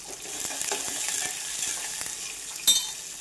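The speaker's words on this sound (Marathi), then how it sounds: "यामध्ये थोडंसं जिरं आणि मोहरी देखील टाकून घेतली" Cumin and mustard seeds sizzle and crackle in hot oil for a tempering, a steady frying hiss broken by sharp pops and a louder crackle near the end, with no voices.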